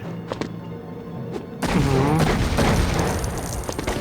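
Gunfire erupts in the Lego Indiana Jones game on PSP: quiet clicks and taps give way to a loud, sustained burst of shooting and booming that carries through to the end.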